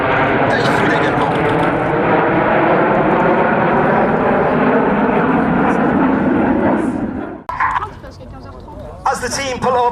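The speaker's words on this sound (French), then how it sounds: "As the team pull up at over 600 kilometers an hour for the Apollo loop" Red Arrows jet aircraft pulling up into a loop at an airshow, a loud continuous roar for about seven seconds that cuts off abruptly, followed by crowd noise and a public-address voice.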